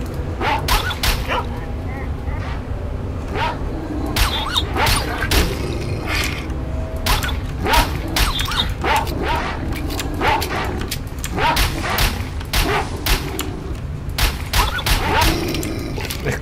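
A dog-like mutant creature in S.T.A.L.K.E.R.: Shadow of Chernobyl gives repeated sharp barks and yips in irregular bursts throughout, close and loud, while people talk over it.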